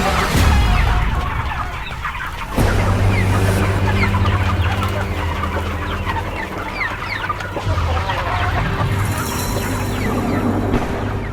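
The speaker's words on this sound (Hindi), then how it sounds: "अरे मेरी मुर्गियों को पकड़ो।" Several chickens cluck and squawk close by in a busy, continuous farmyard chorus, with overlapping calls across the whole stretch and a steady low rumble beneath.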